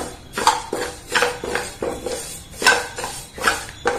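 Dry dal is roasted in a pan without ghee as a spoon scrapes and clinks against the metal in a steady, repeated rhythm of sharp strokes, close and fairly loud, with no talking.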